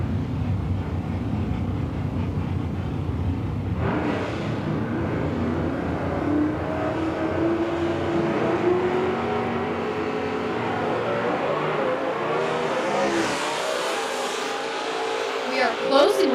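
A 1964 Ford and a 1973 Camaro launch and run side by side at a nostalgia fuel-and-gas drag race, a loud sustained engine roar rising and swelling to a final surge, with an announcer talking over it.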